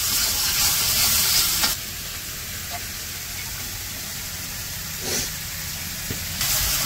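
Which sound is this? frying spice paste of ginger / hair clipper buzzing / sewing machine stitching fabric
frying spice paste of ginger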